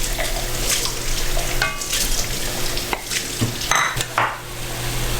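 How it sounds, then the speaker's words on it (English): Onions, then celery, cook in a pan in a home plantation-style kitchen, giving a steady close sizzle and frying hiss with occasional stirring scrapes and clatter throughout, no talking. "So we cook the onions a little bit, and then we'll add the celery."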